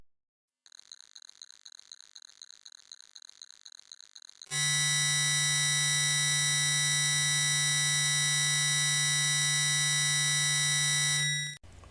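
A pure, steady high violin harmonic sounds alone at first, then a second violin's 6th harmonic joins, and both hold together loudly for several seconds before cutting off.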